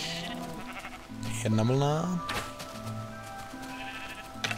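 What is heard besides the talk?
sheep bleating in the video game Minecraft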